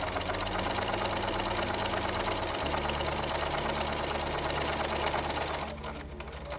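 A sewing machine sewing a straight stitch runs at a steady, continuous mechanical whir with a fast even rhythm, close and loud, then eases off just before the end.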